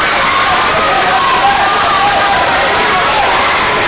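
A home crowd at a Panthers basketball game in the first quarter keeps up a steady, roaring chant that fills the arena, with a commentator talking loudly over it.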